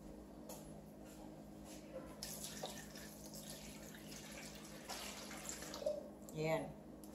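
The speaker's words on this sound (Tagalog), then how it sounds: "Tapos lalagyan ko lang to ng tubig." Water poured from a tap into a pan for an oven-baked leche flan, a soft trickle that swells briefly near the end, under quiet background noise.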